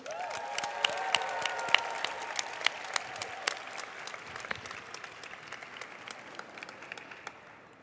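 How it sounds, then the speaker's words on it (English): Applause from an audience at a school award ceremony, a steady patter of many hands with sharper individual claps standing out, a few cheers early on, slowly tapering over about eight seconds. "Can we give them one more round of applause, please?"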